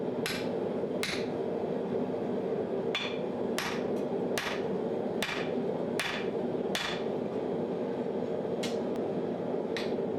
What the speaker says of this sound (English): I'm only hammering on the side that's got the thicker end of the drift in it